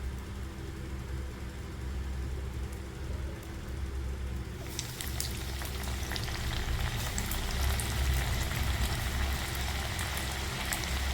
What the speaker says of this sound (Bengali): এবার একটা দুটো করে এর মধ্যে আমি ফ্রেঞ্চ ফ্রাইজগুলো ছেড়ে দেবো